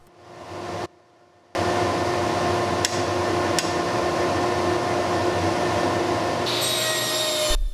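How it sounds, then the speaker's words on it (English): A table saw cutting grooves into cabinet door stiles and rails, a loud steady whine and rush of the blade in the wood that drops out briefly near the start and then runs on continuously, close up. "I then lowered my blade to 1/2 inch so that I can cut the groove in the stile and rails"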